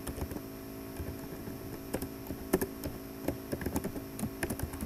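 Keys clatter in a steady, uneven patter as Java code is typed on a computer keyboard, close and fairly quiet over a low electrical hum.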